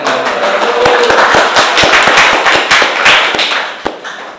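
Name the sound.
applause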